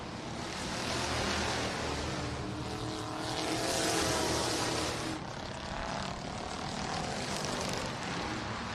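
Sprint cars, Crown Vics and mini stocks in heat races at Showtime Speedway make a continuous roar from a distance, swelling and easing as the field circles the track. There is no clear talk over the engines.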